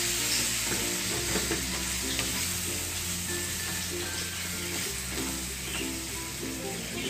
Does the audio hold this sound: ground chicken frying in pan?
yes